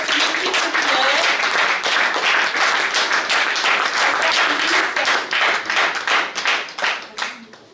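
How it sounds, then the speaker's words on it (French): Audience applause at a French association conference on the integration pathway in France, dense and sustained clapping from a hall full of people, loud throughout and tapering slightly at the end. "Je vous demande de l'applaudir"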